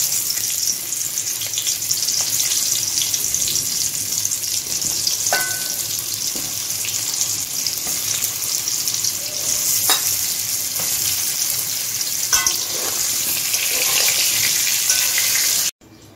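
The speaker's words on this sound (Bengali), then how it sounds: "আলু ভাজার তেলে পটলটা ভেজে নিচ্ছি" Slices of pointed gourd (potol) fry in oil left over from frying potatoes, giving a steady close sizzle throughout with occasional soft clicks of stirring.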